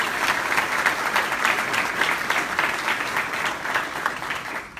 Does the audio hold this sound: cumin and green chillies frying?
no